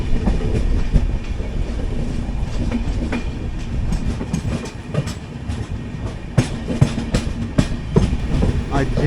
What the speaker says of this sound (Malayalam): ഓപ്പോസിറ്റ് ലൈനിൽ ഏതോ ട്രെയിൻ ഇറങ്ങി വരുന്നുണ്ട്